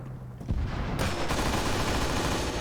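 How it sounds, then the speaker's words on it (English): Gunfire rattles from inside a nearby building in Arma 3, a dense burst of rapid shots that keeps going after a short quiet lead-in. "I can hear gunfire coming from this building right in front of me."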